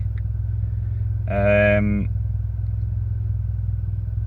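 A Mitsubishi Lancer Evolution X engine idles with a steady low rumble, then rises in one brief rev lasting under a second before settling back to idle.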